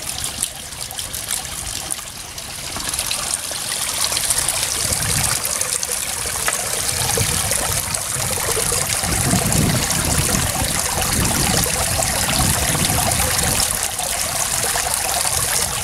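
Water trickles and dribbles steadily from a handful of tiny rebon shrimp being squeezed by hand outdoors, a continuous close wet patter with no talk.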